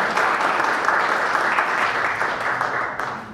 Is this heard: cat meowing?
no